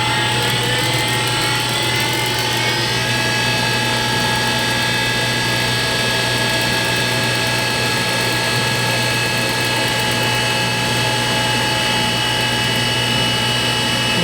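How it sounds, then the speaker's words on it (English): A cutter grinder grinds a pin in a machine shop, making a loud, unbroken mechanical whine and rumble that stays steady and close throughout with no talking. "And we'll grind this pin in."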